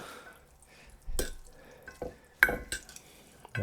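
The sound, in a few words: stirring a dough mixture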